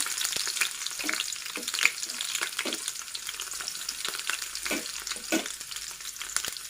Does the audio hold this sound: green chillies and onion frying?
yes